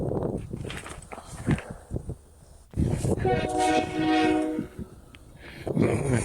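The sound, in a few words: train approaching with horn, from a video game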